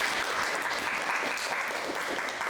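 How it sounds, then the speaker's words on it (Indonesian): Steady applause from a group, a dense wash of clapping holding at an even level throughout with no voices standing out. "Tepuk tangan untuk kelompok 1."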